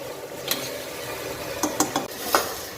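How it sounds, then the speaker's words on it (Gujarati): Tomatoes and onions sautéing in a pan for soya chunk pulao, a soft steady sizzle broken by several sharp scrapes and clicks of a spoon stirring against the metal. "આપણે બેથી ત્રણ મિનિટ સુધી ટામેટા ડુંગળીને સરસ સાંતળી લઈએ"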